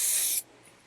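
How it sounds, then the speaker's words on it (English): A single loud, steady hiss of separator spray onto dental impression trays lasting under half a second, then cutting off to quiet room tone. "Now you're going to spray your trays with a separator spray."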